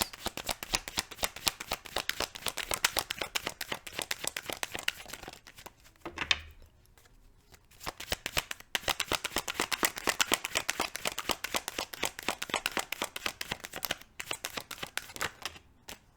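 Tarot cards shuffled by hand in a close, steady run of crisp riffling flutters, pausing briefly near the middle before the rapid shuffling resumes.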